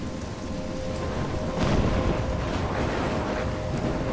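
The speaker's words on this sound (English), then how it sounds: "I'm trapped in a storm?" A stormy scene in the video game Life is Strange, with steady heavy rain, gusting wind and a low thunder rumble swelling midway, loud and continuous with no talk.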